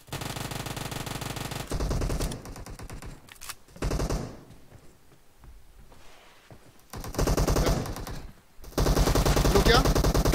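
During a PUBG team deathmatch, an M24 sniper rifle and other guns fire in bursts of rapid, loud shots broken by brief pauses, with voices talking underneath.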